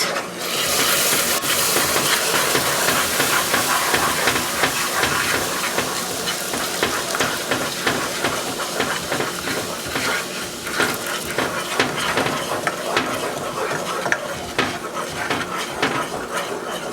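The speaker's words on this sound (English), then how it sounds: "Now we're going to add the spiced orange juice to it." Spiced orange juice poured into hot honey-and-sugar caramel in a pan gives a steady, loud sizzle and hiss, with clinks of a utensil stirring throughout.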